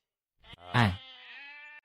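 Mountain goats bleat nearby: a short rough call followed by a louder, drawn-out wavering bleat that tails off, with no talk.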